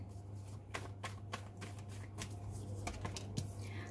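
Tarot cards being drawn and shuffled, with soft papery flicks and snaps arriving in an irregular run of light taps, close and quiet over a steady low hum.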